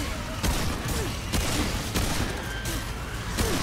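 Gunshots in Remnant 2, several sharp reports spaced roughly every half second to second over a dense, noisy combat background, loud and close, no talk.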